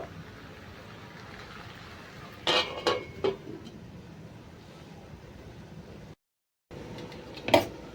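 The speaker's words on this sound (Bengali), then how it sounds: "এবার আমি কিছু সময় ঢাকা দিয়ে রান্না করে নেব" A lid goes onto a cooking pot while taro stolons (kochur loti) simmer on a home stove, giving a few short metallic clanks and clatters, then one more sharp clink moments later against a low steady background hiss.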